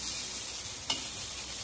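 Fiddlehead fern (dhekia) frying with ginger and garlic, a soft steady sizzle with one brief louder stir partway through.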